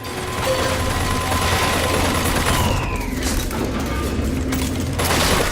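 Continuous dense gunfire and booming blasts from a Bioshock Infinite battle, with rapid shots, explosions and mechanical noise filling the clip loudly throughout.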